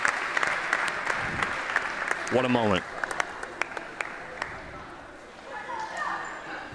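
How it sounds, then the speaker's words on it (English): Crowd applause fills a high school girls' basketball gym as the seniors leave the court, a steady wash of clapping with a few sharp claps and sneaker squeaks while a commentator speaks over it. "And a round of applause here at the Castle as the seniors will head off the court."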